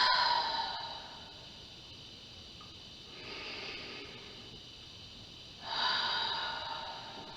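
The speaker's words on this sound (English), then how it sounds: "Let's take 2 big breaths." Two big, slow breaths taken during a seated yoga sun salutation, each a soft airy inhale or exhale, near and quiet against a faint room hush.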